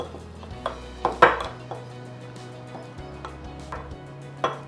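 Green chilies, dry chilies and salt being mixed into fish with coconut milk powder for a Bengali aloo posto fish curry, heard as a few soft clinks and scrapes of a utensil against a bowl, with one louder knock near the middle.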